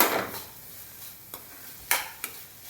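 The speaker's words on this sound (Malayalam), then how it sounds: "നന്നായി ഒന്ന് ബീറ്റ് ചെയ്തെടുക്കണം മുട്ട" Beaten eggs whisked in a bowl for a kids' omelette, a brief rushing stir followed by a few sharp taps and scrapes, close and moderately loud with no voices.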